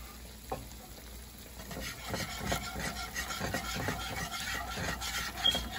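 A utensil steadily scraping and stirring as milk is mixed into simmering gravy for oxtails in a pan, a soft continuous rubbing rasp with faint sizzling underneath and no talking.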